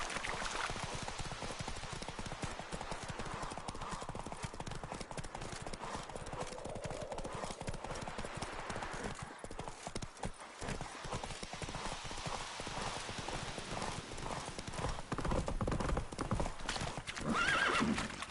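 Horse hooves clip-clop at a gallop through The Witcher 3 with whinnies and neighs breaking in, loud and steady for the whole stretch, with game voices calling out over the riding.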